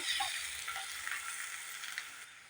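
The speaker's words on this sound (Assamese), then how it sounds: "নহৰু, জলকীয়াখিনি মই ভালদৰে ভাজি ল'লোঁ।" Onion, ginger-garlic paste and chili fry in a pan with a steady, close hiss and crackle, occasional stirring scrapes, with no voices.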